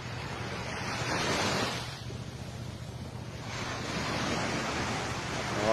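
Sea surf washes in a steady broadband roar as water recedes along the shore after the Davao earthquake, swelling and easing with wind buffeting the microphone, no talk.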